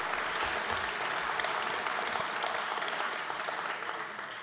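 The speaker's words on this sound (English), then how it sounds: "let's give it a round of applause" An audience at a bourbon dinner celebration gives a full round of applause, dense steady clapping that fades slightly toward the end.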